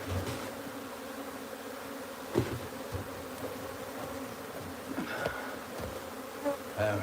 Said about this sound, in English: Hope you like the sound of those bees. So beautiful hearing that buzz.